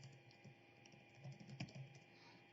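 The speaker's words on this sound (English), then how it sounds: "We're going to type in our information up here" Faint, light keystrokes on a computer keyboard as contact details and an alert title are entered into a GPS tracking dashboard, a few scattered taps building to a short cluster, quiet and close with no talking.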